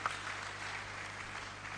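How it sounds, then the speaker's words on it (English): Audience clapping for the panelists at the opening ceremony of a state health council meeting, a steady wash of applause from a hall crowd, moderately distant and fairly quiet, with no talk over it. "can we give a clap to our panelists?"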